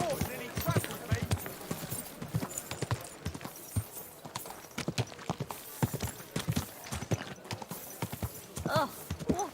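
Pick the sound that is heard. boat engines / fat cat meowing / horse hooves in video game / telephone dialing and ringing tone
horse hooves in video game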